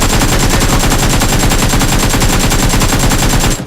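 Rapid, continuous automatic gunfire from a shooter video game during a close-range fight, loud and unbroken for several seconds before cutting off abruptly, with no voices.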